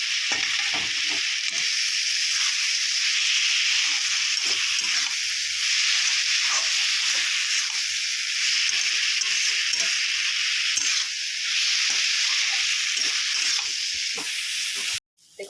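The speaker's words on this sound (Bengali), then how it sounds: "এবার আমি একটু নেড়ে ভেজে নেবো" Rice and mung dal fry in a pan for a Bengali murighanta dish, giving a close, steady sizzling hiss with light scraping as they are stirred, then a short clatter at the end.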